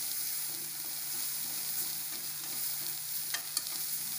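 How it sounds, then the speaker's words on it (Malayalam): Banana pieces sautéing in a pan over a low flame for a coconut banana roll, giving a steady soft sizzle that runs evenly throughout with a couple of faint clinks near the end and no talk. "അപ്പോൾ അതിന് ചെറിയ തീയിലിട്ടിട്ട് നമുക്കിത് വാട്ടിയെടുക്കണം"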